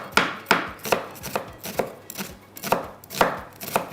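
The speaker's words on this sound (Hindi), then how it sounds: "चलिए थोड़ा बारीक बारीक प्याज कर लेते हैं" Onions being finely chopped with a knife on a cutting board for a chana dal gosht dish, about ten crisp, evenly spaced cuts ringing out clearly up close with no talking.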